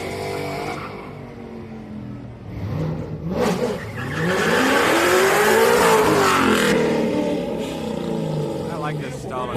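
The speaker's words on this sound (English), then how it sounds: "I like this stalling Corvette." A Corvette at a Houston Raceway Park street-night drag event rumbles, revs and stumbles, with a swelling engine note and a passing rise and fall. People talk over it.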